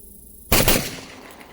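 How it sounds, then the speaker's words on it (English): A Beretta A300 shotgun fires a single loud, sharp blast with a brief ringing tail, close by and alone. "when you shoot a shotgun so much, at some point you start to anticipate the recoil because it's a lot of kick"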